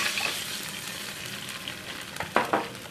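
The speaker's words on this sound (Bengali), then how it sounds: "ঘিটা গরম হয়ে গেছে এর মধ্যে দিয়ে দিব লিকুইড দুধ" Liquid milk hits hot ghee in a pan and sizzles steadily, a close frying hiss broken by a few sharper pops and crackles, with no voices.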